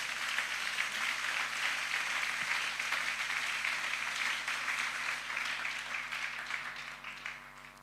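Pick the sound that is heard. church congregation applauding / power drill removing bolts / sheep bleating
church congregation applauding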